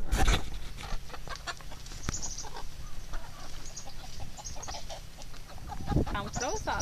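Chickens cluck and squawk busily while a rooster calls out, a lively farmyard flock heard close up with some movement and chatter around them.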